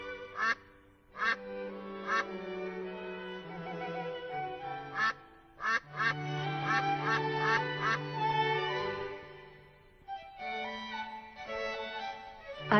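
A duck quacks repeatedly in bursts of nasal calls, some short and clipped, others drawn out, loud and close with brief pauses between.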